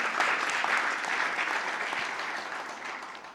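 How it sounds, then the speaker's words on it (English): At a business awards ceremony in KwaZulu-Natal, an audience gives a round of applause: a continuous, fairly even wash of clapping that fades slightly toward the end, with no voices over it. "Please give them a round of applause as well."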